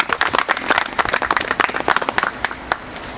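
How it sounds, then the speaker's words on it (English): Outdoor audience clapping at a climate resiliency announcement in Batavia, a short burst of scattered, moderately close hand claps from a modest crowd, uneven in rhythm and fading slightly toward the end. "I do think that deserves a round of applause."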